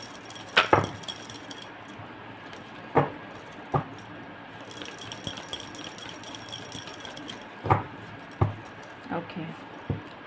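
Tarot cards being shuffled by hand: several short, papery rattling bursts with quiet pauses between them, close and fairly soft.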